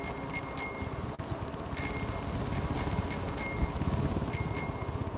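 A bicycle bell on an electric bike rings in several quick clusters of bright dings, outdoors over rumbling wind and riding noise.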